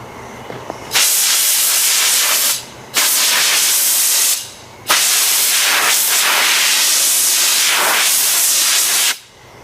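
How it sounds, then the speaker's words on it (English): Compressed air blasts across a wooden tool handle in a series of loud, steady hissing bursts, four long sprays separated by short pauses, close and with no voices. "the last thing we'll do, use some compressed air on it"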